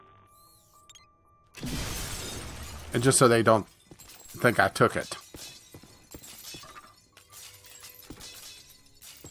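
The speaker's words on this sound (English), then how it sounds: "I love that the glass just continues to shatter for a while." Glass shatters in the Ghostbusters video game in loud, crashing bursts that keep tinkling on for several seconds, while someone talks over it.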